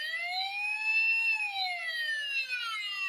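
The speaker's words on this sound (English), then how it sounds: "if you push his little button, he makes a fire and rescue vehicle sounds" An electronic siren from a Transformers Sentinel Prime toy fire and rescue vehicle plays through a small chest speaker. It gives a clean, wailing tone that rises and falls in pitch over about three seconds, heard alone and moderately loud.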